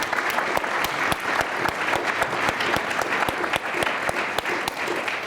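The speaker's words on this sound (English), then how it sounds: "join me in a round of applause to our panelists" Conference audience applauding the panelists at a data economy event, a steady wash of many hands clapping with a few sharper claps standing out, and no talk over it.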